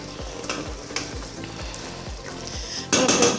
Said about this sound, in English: So just mix it so that it doesn't burn